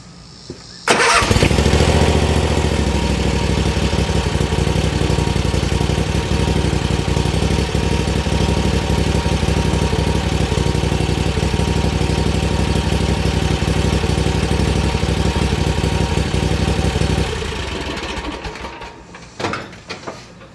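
A Bad Boy riding lawn mower engine runs steadily and loud after a sharp start, holding a constant drone for about sixteen seconds before winding down and cutting off near the end.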